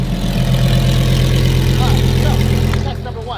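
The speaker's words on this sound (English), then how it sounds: "have the aftermarket headers with the OEM replacement performance exhaust that Lamborghini does offer" A Lamborghini engine idles with aftermarket valvetronic headers and the OEM replacement performance exhaust, giving a loud, steady low rumble close by for about three seconds before easing slightly at the end.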